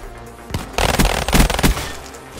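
Gunfire rings out in a video game gun-game match during a headshot kill, a rapid burst of loud sharp shots packed closely together, then a quieter tail.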